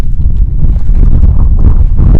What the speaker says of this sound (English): oh, it's so windy up here